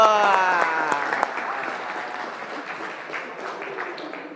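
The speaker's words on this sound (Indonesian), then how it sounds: "tepuk tangan buat semua" Classroom group applause in a teacher-training session: it starts under a voice and settles into steady, fairly close clapping that slowly thins out.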